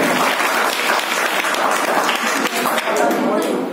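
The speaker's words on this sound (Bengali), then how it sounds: "তো আরো একবার জোরে হাততালি সপ্তম শ্রেণীর ছাত্রীদের জন্য" An audience at a school Rabindra Jayanti cultural programme claps loudly and steadily after a dance by seventh-grade girls. The dense applause runs throughout without a break, with no words spoken over it.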